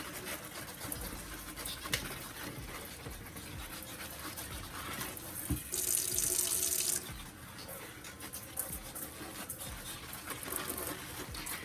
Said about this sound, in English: some lukewarm water. And I'm going to rinse off the leaves.